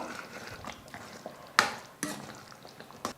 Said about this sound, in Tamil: எல்லாம் சேர்த்து நல்லா கலந்து விட்டுடலாம்.